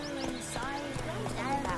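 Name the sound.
horse Roach trotting, from video game The Witcher 3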